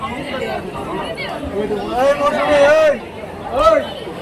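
A crowd of people chattering at Kamakhya temple: a dense murmur of overlapping voices, with a few louder, nearer speakers rising out of the babble.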